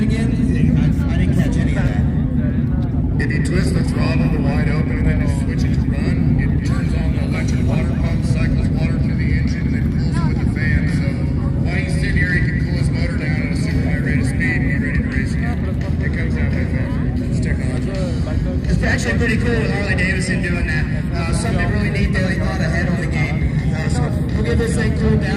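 Cooling fans on a Harley Sportster motorcycle at an outdoor drag race give a loud, steady whooshing roar that stays constant throughout, with voices talking over it.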